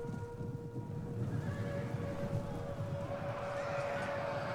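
Cavalry horses in a Total War: Attila battle, a dense rumble of galloping hooves with faint whinnies and a distant crowd-like din, steady and continuous throughout.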